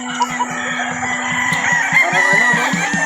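Gamecock stags at a game farm crow loudly and repeatedly at close range, with clucking and other fowl calls layered over a steady farmyard background, and no talking.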